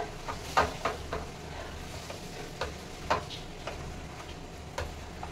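Set dosa batter of flattened rice and semolina gets mixed with salt in a bowl, a spoon tapping and scraping in soft, irregular clicks close by with no talk.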